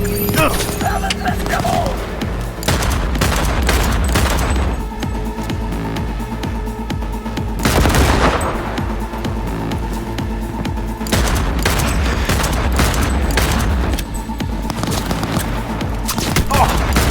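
Heavy gunfire in a Cyberpunk 2077 shootout: dense bursts of automatic fire and booming impacts repeat across the clip, loud and close, with shouted voices under the barrage.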